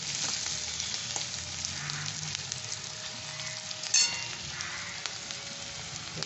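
Onions sizzle steadily in white cooking oil for a chicken dish, a continuous close, bright frying hiss with a brief clink of a utensil midway.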